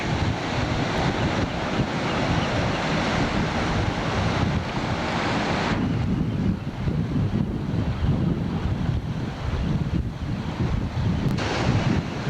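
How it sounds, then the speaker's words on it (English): Ocean waves hitting rock, a continuous loud wash of surf roaring under heavy wind buffeting on the microphone, with surges rising and falling across the stretch and no voices. "There's the water hitting the rock. Here comes a wave in."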